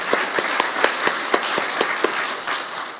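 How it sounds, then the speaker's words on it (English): A spiritual center congregation applauds with steady, moderately loud clapping, individual claps distinct and evenly spaced across a few seconds in a reverberant room. "Let's give her a round of applause as well."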